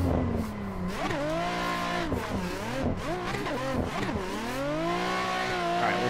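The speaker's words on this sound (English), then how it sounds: "Car breaks so much traction right off the rip." A Nissan 400Z drift car revs hard and breaks traction during a test pull, its loud, continuous engine note climbing and dipping through shifts with tire squeal, close and steady throughout with no talk.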